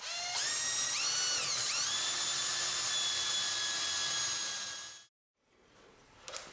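A high-pitched whining tailstock drill on a lathe runs steadily for about five seconds, its pitch dipping briefly as it bites, then stops abruptly, leaving quiet room noise.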